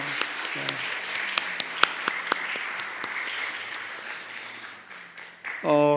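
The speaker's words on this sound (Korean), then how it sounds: "우리 목사님과 사모님 박수로 환영하겠습니다." A church congregation applauds at a Sunday service, steady dense clapping with a few sharper nearby claps. It fades near the end, and a voice then comes in loudly.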